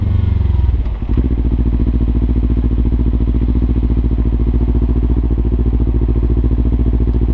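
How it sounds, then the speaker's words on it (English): A motorcycle engine idles and rumbles steadily at low speed while riding slowly over gravel, with a brief dip and throttle change near the start followed by an even, close, continuous drone. "Clutch in, throttle up, throttle back up, while clutch out."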